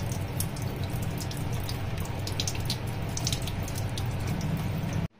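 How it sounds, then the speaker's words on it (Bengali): Water splashes steadily over a gas oven burner part being rinsed clean, a continuous close rushing wash with no talking. "আর একটু ভালো করে জলের মধ্যে দিয়ে ধুয়ে নিই ভালো করে।"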